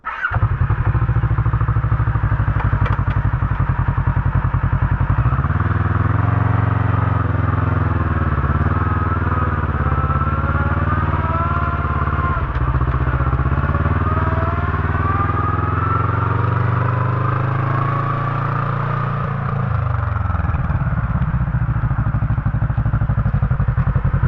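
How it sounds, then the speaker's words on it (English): Loud, continuous close-up side-by-side drivetrain drone with a high transmission gear whine riding over the engine's rumble, steady for the whole stretch and no talking. "Sounds more like a gear whine. Like a low range, low range or something."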